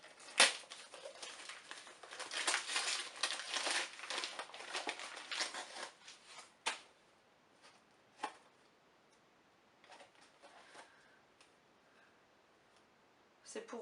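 Gift parcel being unwrapped, with loud crinkling and rustling of paper in dense bursts for several seconds, then quieter intermittent crackles and taps.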